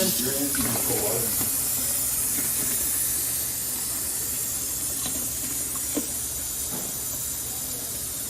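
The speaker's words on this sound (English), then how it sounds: "Got to fill it up with some water." Water pours steadily into a container for a homebrew ice bath, a constant hissing rush with a few faint knocks and clicks underneath.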